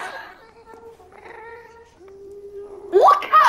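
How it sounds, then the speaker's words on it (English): A cat meows in a video game: a wavering, drawn-out mewing tone rising and falling at moderate loudness, followed by a brighter, louder caterwaul burst near the end. "What cat makes that sound?"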